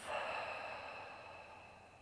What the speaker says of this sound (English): Closing the mouth, breathing in through the nose.